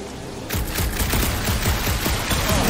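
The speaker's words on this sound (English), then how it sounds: "A couple of shots should bring it down." Dense burst of gunfire in the Guardians of the Galaxy video game, shots aimed at a gunked-up reactor, sounding as a loud continuous fusillade of rapid overlapping reports with no talk.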